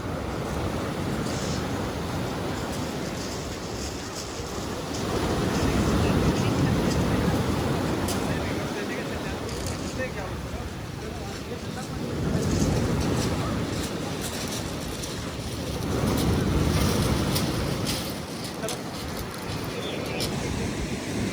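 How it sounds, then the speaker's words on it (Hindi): Sea waves roll in near the shore on the Isle of Wight, swelling into loud broad surges every few seconds, with wind buffeting the microphone between the surges. "आप लोग देखें ज़रा, वो लहरें पास आ रही हैं इधर"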